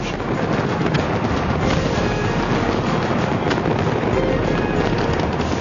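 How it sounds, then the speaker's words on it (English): Dense, continuous crackling and rumbling bursts from a fireworks display with waterfalls of fire descending from a bridge, loud and unbroken, with a heavy low roar underneath. "2 waterfalls of fireworks more than a mile of fire descends from the bridge"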